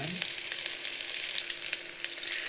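Small onions frying in a pan, a steady hiss of sizzling with faint crackles throughout, close and continuous with no talking.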